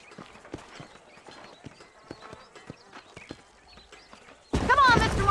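Horses clip-clop steadily along a dusty trail near Armadillo in Red Dead Redemption, the hooves beating in an even rhythm before a sudden loud burst of other game noise at the end.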